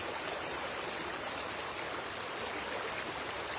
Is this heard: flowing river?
yes